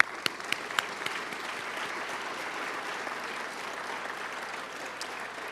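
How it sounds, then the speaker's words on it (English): Audience at an environmental leadership awards ceremony applauds steadily for several seconds, a dense even wash of clapping with a few sharper claps near the start. "please help me in applauding the efforts, leadership, and stewardship of these individuals and organizations"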